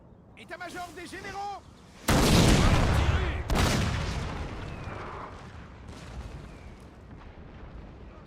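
Several loud booming cannon blasts from a Total War: Napoleon battle, the first preceded by a brief voice, followed by a long rumbling decay and scattered distant shots.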